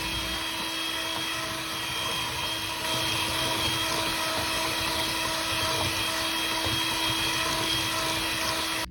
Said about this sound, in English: you're going to cream that butter or margarine and that granulated sugar is what I'm using until it's nice, light and fluffy